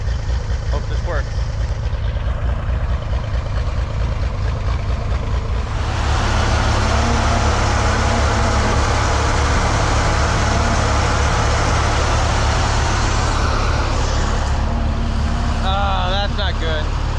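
A 1963 Corvair engine runs steadily close by, a loud, even mechanical drone that grows slightly fuller and harsher partway through, with faint voices in the background.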